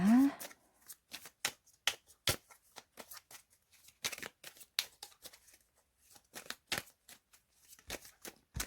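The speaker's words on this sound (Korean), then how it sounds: "속마음 카드 한번 뽑아보도록 하겠습니다." Tarot cards are shuffled and drawn in a long run of crisp, rapid riffling flicks and snaps, close and fairly quiet, with a brief voice at the start.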